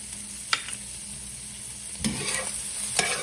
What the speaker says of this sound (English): A little bit of mixing here.